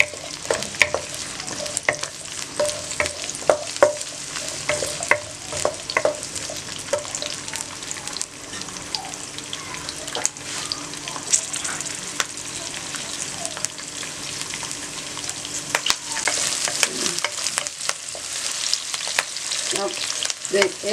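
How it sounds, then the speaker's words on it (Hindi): Chicken frying in a pan with capsicum, a continuous bright sizzle broken by frequent clinks and scrapes of stirring, close and steady throughout. "अब 1 मिनट के लिए इसको मैंने फ्राई किया"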